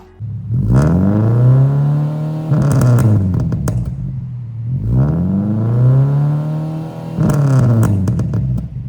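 A petrol Toyota Innova with a 1TR engine blips its throttle through a Sokudo Type 3 muffler: three loud, close revs that climb and fall back to idle, each rising pitch sweep followed by a rumbling settle, with no voices.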